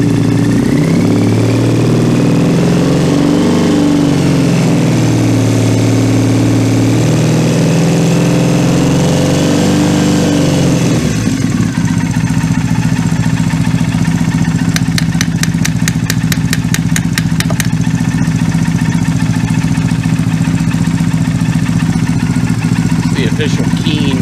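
A Triumph Bonneville motorcycle with British Customs Predator pipes and a leaking carburetor idles close by, its steady engine rumble dipping and surging in the first half before settling into a steady even idle with a ticking clatter.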